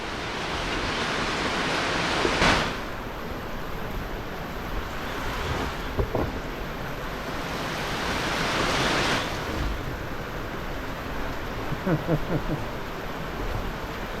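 A heavy, continuous mountain downpour roars throughout, swelling in gusts, with a few faint knocks and clicks surfacing over the steady wash.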